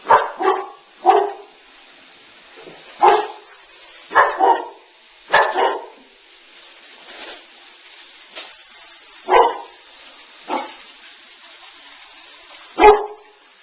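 Boxer dogs playing with a puppy let out sharp, scattered barks and a few higher yips, close and loud, separated by quiet pauses.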